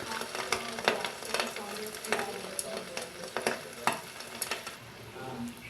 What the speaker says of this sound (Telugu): ఆయిల్లో వేసుకుని వేయించుకోవాలి ఈ విధంగా చేసుకోవాలి కొంచెం పిండిని వేసి చూసుకోవాలి ఆయిల్ హీట్ అయిందో లేదో